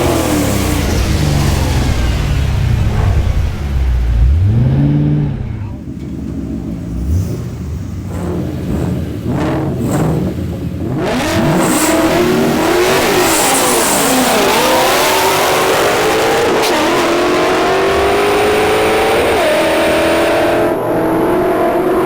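A 2006 Ford Mustang GT running Stage 4 boost makes a drag strip pass, its engine revving hard and loud, dipping briefly at a shift, then climbing again through the gears in a long sustained roar.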